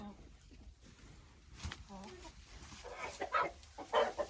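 Araucana cross laying hen clucking in short, soft bursts close by, with a person's voice talking over and between the clucks.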